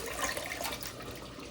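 Mustard flowers being washed in water before making pakoras, a faint, continuous splashing and running-water wash heard up close with no talk.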